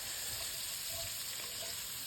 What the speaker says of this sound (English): cooking the onions in that bacon fat